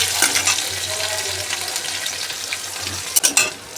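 Ginger and green chilies drop into hot oil already tempered with five-spice and dried red chilies for dal chorchori, a steady close sizzle and hiss with a few sharper crackles near the end.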